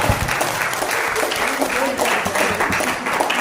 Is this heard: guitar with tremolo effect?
no